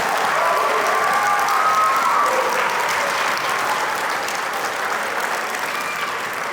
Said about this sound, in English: Yes, you can applaud.